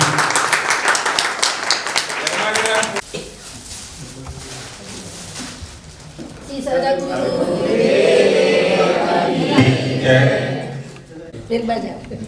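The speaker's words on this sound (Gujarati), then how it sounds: "હરીશભાઈની વિનંતી છે કે આપણને તાળીઓથી બધા વધારીશું." An audience claps at a religious katha gathering in Haridwar. The clapping is dense at the start, then a voice speaks over a murmur, and a second stretch of applause follows later.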